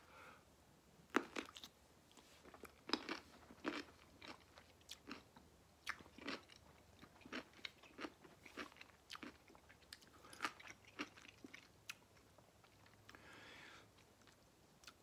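Hot pickle being chewed close to the mouth, with repeated wet crunching bites spread unevenly through the whole stretch and no talking.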